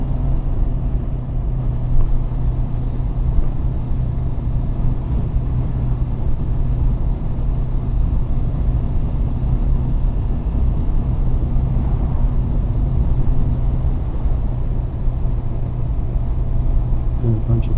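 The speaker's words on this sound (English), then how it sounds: "It's pretty busy. It's usually not a lot of cars, almost no cars like usually." Steady road rumble from a Ninja 650 motorcycle riding through traffic on a busy road, with passing cars blending into a continuous low, loud drone and no talk over it.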